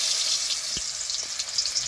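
Potatoes frying in hot oil in a home kitchen, a steady close sizzling hiss that runs evenly throughout with a couple of faint soft knocks.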